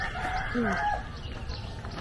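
A chicken gives a few short throaty calls close by, standing out over a steady low background hum.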